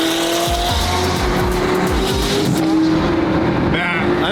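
A straight-piped McLaren Senna hypercar roars loudly up close, its engine revving hard in rising and falling sweeps with a raw, aggressive exhaust note that fills the whole stretch.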